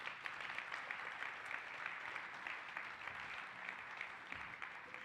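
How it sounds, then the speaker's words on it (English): Audience applause at a live global business summit, a steady wash of clapping from a large crowd sustained throughout with scattered sharper claps, no talking over it. "give yourselves a big round of applause."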